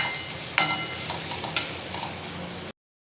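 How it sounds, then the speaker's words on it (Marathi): Boiled sorghum grits being sautéed in oil with a stirring spoon, a continuous soft sizzle marked by two sharp metallic taps against the pan, close by and without any talking. "आता हे सगळं थोडं तेलात परतून घेऊया।"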